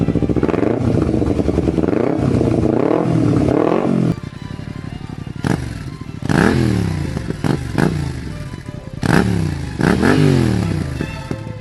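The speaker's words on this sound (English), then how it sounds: "a more distinctive and burlier exhaust note with pops and burbles" A V-twin motorcycle engine revs hard again and again, its deep, burly exhaust rising and falling with crackling pops and burbles between the revs.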